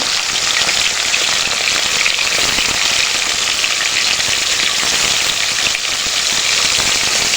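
Quail meat fries in hot oil in a wok, giving a loud, steady, dense sizzle with crackling that holds unbroken the whole time, and no voices.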